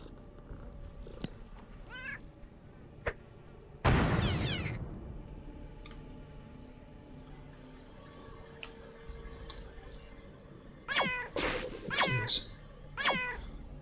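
Cat meows and caterwauls from the cat lasers in the Underrail video game, several short cries clustered near the end after a sudden burst of noise, over a quiet hum.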